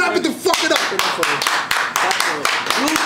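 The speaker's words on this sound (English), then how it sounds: "Let's clap it the fuck it up." Handclaps from a small group in a podcast studio conference room, sharp repeated claps with lively talk and shouting over them.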